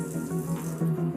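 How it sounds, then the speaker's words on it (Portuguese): Cold water runs from a kitchen tap into a drinking glass, a steady close splashing stream with a slight rise in tone as the glass fills. "Um deles a gente vai encher com água fria da torneira"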